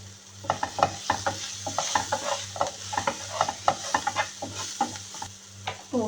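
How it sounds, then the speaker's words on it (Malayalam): Onions softening with salt in a pan for a Kerala-style sweet potato dish, stirred with steady scraping strokes over a constant low sizzle, a spoon knocking the pan in an irregular rhythm close by, with no talk. "ഇത് നന്നായി മിക്സ് ചെയ്ത് ഈ ഉള്ളി കുറച്ച് സോഫ്റ്റ് ആവുന്നത് മിക്സ് ചെയ്താൽ മാത്രം മതി."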